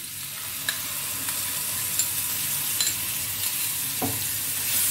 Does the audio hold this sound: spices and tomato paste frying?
yes